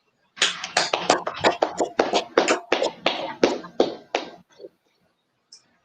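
A class claps hands together in a steady unison rhythm: about a dozen loud, close bursts in quick succession that stop abruptly, followed by near silence.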